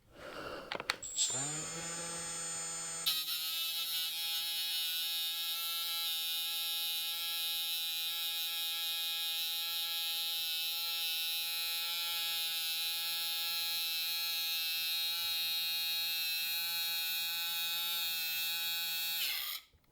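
A power cutting tool slices through wire rope, throwing sparks: a brief spin-up, then a loud, steady high-pitched whine and grinding buzz that holds for about seventeen seconds before stopping abruptly, with no speech.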